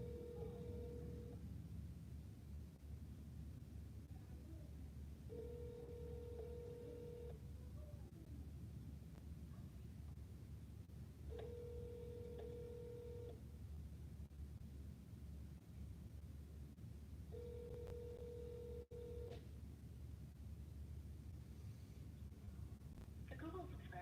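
A phone call's ringing tone repeats four times in steady bursts of about two seconds with long gaps between them, fairly faint beneath a constant hiss of background noise.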